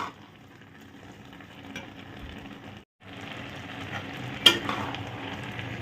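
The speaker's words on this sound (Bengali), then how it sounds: "সমানে নাড়তে হয় এটা, নাহলে তলায় কিন্তু ধরে যেতে পারে" Carrot halwa cooking down in milk in a pan, stirred steadily with a soft bubbling sizzle and scraping, a brief gap, then a sharp utensil knock.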